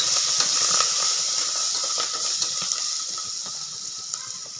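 Mint and coriander leaves fry in hot oil for a chicken biryani, giving a steady bright sizzle and hiss with small crackles, close and gradually easing off.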